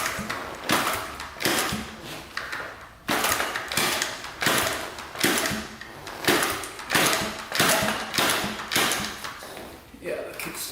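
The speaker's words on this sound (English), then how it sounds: "the Kickstarter keeps on slipping" A slipping kickstarter on a 1977 Honda Z50 motorcycle that won't start is kicked over and over, about a dozen loud, close, rhythmic clacking strokes in quick succession.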